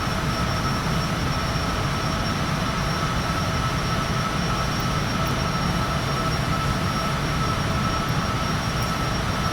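Airliner engines at full throttle in Microsoft Flight Simulator 2020 give a loud, constant roar with a thin high whine on top, holding steady throughout with no voices.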